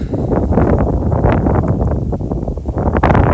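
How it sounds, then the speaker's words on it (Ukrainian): Strong wind buffets the microphone with a continuous loud rumbling roar, gusting unevenly throughout, at a feeder fishing spot in February after the ice breakup. "тут зараз вже досить сильний вітер"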